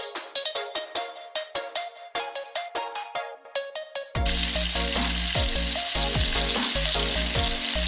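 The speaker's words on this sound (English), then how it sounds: "Fry on medium flame from all sides until golden brown" Chicken kababs fry on a medium flame, a loud, steady sizzle that bursts in about halfway through after a run of plucked melodic notes, with music continuing beneath the hiss.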